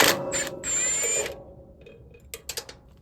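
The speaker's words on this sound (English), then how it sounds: "So first thing I'm going to do is take off this one 10mm bolt" A socket wrench loosens a single 10mm bolt on a Kubota diesel zero-turn mower, giving a close burst of ratcheting clicks with a squeaky metal whine, then a pause and a few sharp clicks near the end.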